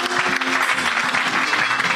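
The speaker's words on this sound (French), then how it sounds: "Est-ce que nous pouvons l'acclamer, Jésus?" A church congregation applauds to acclaim Jesus, a loud dense wash of clapping from a large crowd that fills the room continuously, with faint voices mixed underneath.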